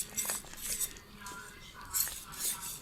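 A spoon stirs Circassian lepsi soup in a pot, giving soft scraping swishes with a few light metallic clinks, quiet and close.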